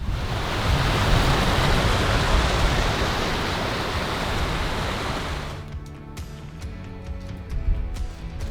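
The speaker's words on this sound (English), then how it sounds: "I can hear a waterfall somewhere in the distance, or at least some fast running water." A steady, dense roar of fast-running water, from a distant waterfall in Snowdonia, fills the air for several seconds, then drops to a softer rush as other faint sounds come through.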